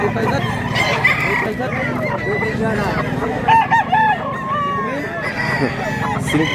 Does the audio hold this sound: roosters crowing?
yes